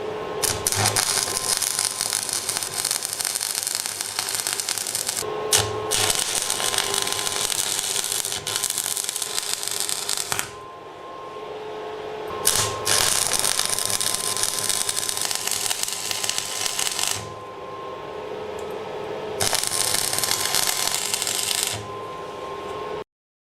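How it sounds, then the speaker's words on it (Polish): Stick welding with a Lidl Parkside transformer arc welder using a 2 mm rutile electrode at about 70 amps; a loud, steady crackling hiss runs in long bursts with brief pauses between runs, no talking. "A teraz pospawamy elektrodą rutylową 146, e, średnica elektrody 2 mm prąd spawania około 70 amperów"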